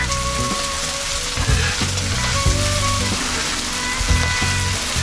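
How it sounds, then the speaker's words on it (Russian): Lamb intestine shashlik sizzles and crackles continuously as it turns over hot coals at a roadside grill in Turkey, a dense close frying hiss with occasional pops and low thumps. "А вот так он жарится, как шаурма, вот так крутится на углях."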